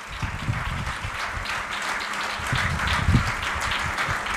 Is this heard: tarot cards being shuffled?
no